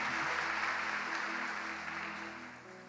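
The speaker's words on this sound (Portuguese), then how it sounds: "Você pode aplaudir ao Senhor?" Congregation applause fills a church service, a steady, dense wash of clapping that stays loud and sustained before easing slightly toward the end, with a faint low hum underneath.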